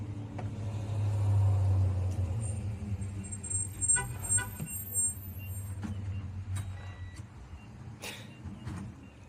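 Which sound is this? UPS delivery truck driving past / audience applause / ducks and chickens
UPS delivery truck driving past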